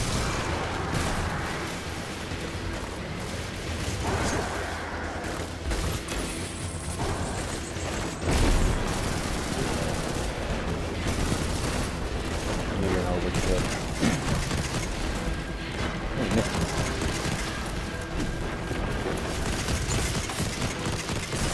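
Dense gunfire and explosive booms from a Destiny 2 Vanguard Strike battle, continuous and loud throughout, with players talking over the action.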